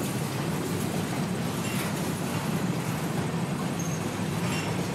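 Hopper cars on a CSX mixed freight train in Holland, Michigan roll past in a loud, continuous rumble with a faint rhythmic clatter of wheels on rail.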